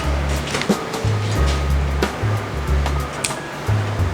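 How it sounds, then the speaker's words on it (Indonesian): Mie ayam noodles dropped into a pot of salted boiling water with a splash of oil, giving a steady, close, rumbling roil of bubbling water in uneven pulses. "Kita masukin mie-nya."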